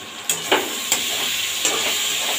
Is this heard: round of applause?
no